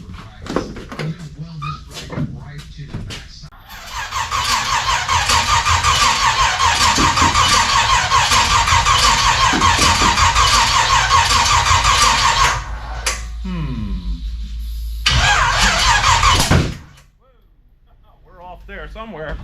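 Gasser car engine with a newly installed carburetor cranks and fires into a loud, steady rough idle for about ten seconds, cuts out, then briefly catches again before dying; a faint voice is heard early on.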